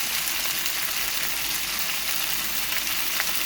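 Pumpkin pieces and a whole cinnamon stick fry in hot oil for a Sri Lankan pumpkin curry, giving a steady, close, even sizzle with no talking.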